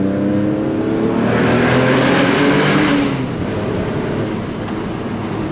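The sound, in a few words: remapped GT 3.2 V6 car accelerating on autobahn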